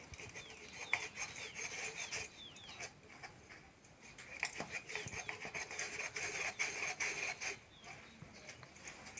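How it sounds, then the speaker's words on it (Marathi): Cooked chana dal puran for puran poli is ground by hand in a village kitchen, giving an uneven rasping, scraping rhythm at low level, with birds chirping faintly in the background. "तर आई पुरण वाटते आता"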